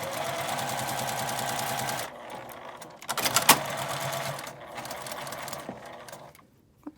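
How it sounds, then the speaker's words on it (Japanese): A sewing machine stitches a basting seam through fabric for a key case, loud and continuous at first, then stopping and restarting in shorter runs with small clicks and handling noises. "ポケットのところにこんな感じで一緒に仮縫いしておきます。"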